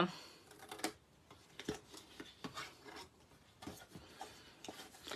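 Blunt scissors make a series of dry, scraping snips through cardboard for a double box craft, irregular and close, with quiet speech around them.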